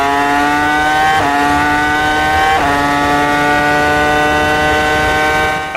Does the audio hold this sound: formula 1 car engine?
yes